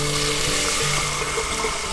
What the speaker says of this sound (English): I just go ahead and fill up the pot with water